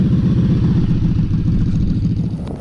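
QJ Motor SRV 600 V4 motorcycle engine, a steady loud low rumble with dense rapid pulsing running throughout, heard up close with no voices.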